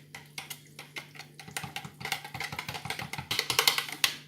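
Curry sauce made with garlic powder and tikka curry powder is stirred in a pan, with a rapid series of close metallic scrapes and clinks of utensil against pan that speed up and grow louder.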